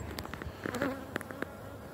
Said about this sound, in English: swarmed out of this hive, or they could have swarmed out of one of those two